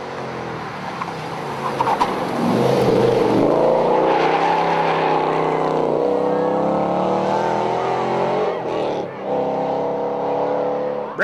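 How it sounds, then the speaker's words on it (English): A Mazda Miata rallycross car racing, its engine revving and accelerating hard with a strained, rising and falling drone and brief gear-shift dips, close and loud throughout. "Rally crossing a Miata is more popular than you would expect."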